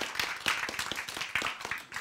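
An audience claps in quick, uneven bursts during a talk on the Bible and science; the applause is fairly faint and brief, with no speech over it.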